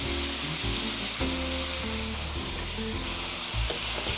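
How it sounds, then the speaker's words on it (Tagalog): Chicken sautéing in a pan with fish sauce, a close, steady sizzle and hiss of frying interrupted by stirring and scraping sounds, with no talk. "igisa pa lang ulit natin para kumapit yung patis sa chicken para lumasas siya"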